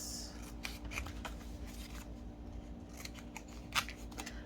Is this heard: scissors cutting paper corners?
yes